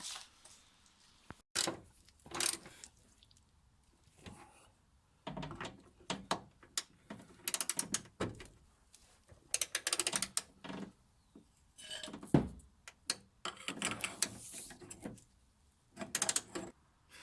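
Hand tools clank and rattle while the back end of a Ford Focus ST170 being prepped for a track day is bolted back on, with irregular metallic clicks, taps and ratcheting bursts separated by quiet gaps.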